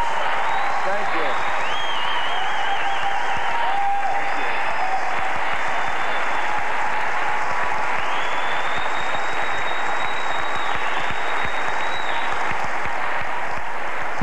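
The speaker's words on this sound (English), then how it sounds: "How many of us in our lives have gotten that kind of applause?" Sustained audience applause fills the hall after Arnold Schwarzenegger's acceptance speech for an honorary degree at UWS, loud and steady throughout with cheering whistles rising over the clapping.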